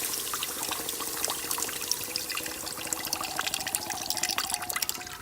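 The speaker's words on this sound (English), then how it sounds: "I'm just going to put my beef broth in here." Beef broth poured from a can into a hot pan to deglaze it while cooking venison steak, a steady liquid pour and trickle with light sizzling and bubbling crackle throughout, close and continuous.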